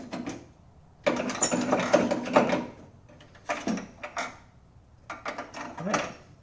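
A ratchet wrench works on 13 mm bolts holding the top mount bumpers of a 1984 Porsche 944. Bursts of rapid ratcheting clicks come close by, separated by short quiet pauses.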